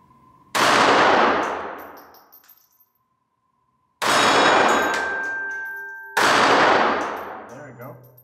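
Three loud shots from a Beretta 3032 Tomcat pocket pistol, each followed by a ringing metallic clang off a steel target that decays slowly, spaced a few seconds apart with no talking.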